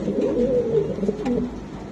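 Pigeons coo steadily in a low, throaty rolling chorus at a pigeon seller's, with several birds overlapping close by and no voices.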